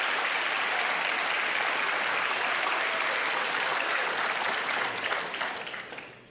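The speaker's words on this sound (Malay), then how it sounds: "Apa kata kita memberikan tepukan kepada kedua-dua pendebat, Yang Berhormat Rafizi Ramli" Audience at a political debate gives sustained, loud applause for two debaters, a dense continuous roar of clapping that holds steady before tapering off toward the end.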